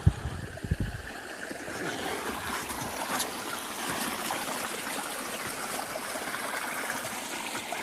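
A waterfall flowing in a rocky, hilly landscape with quartz stones, a steady, fairly loud broadband rush that continues unbroken, with a brief low rumble at the start and no speech.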